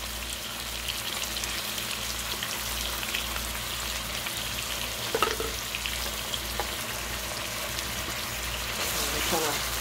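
Onion tops and parsley stirred in a pot for a Cajun chicken fricassee, giving a steady close sizzle with a low hum beneath and a few faint scrapes throughout.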